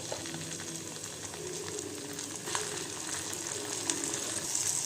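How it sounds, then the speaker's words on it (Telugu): Chicken pieces frying in oil with a steady, close hiss and sizzle and a few small pops, continuous throughout with no talking. "బ్రౌన్ కలర్లోకి ఎలా వచ్చిందో అలా వేగిపోవాలి ముక్క"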